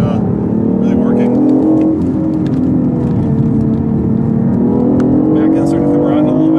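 A 2015 BMW i8 hybrid is driven hard around a racetrack, its engine droning and rising in pitch under steady cabin noise, with a voice talking over it.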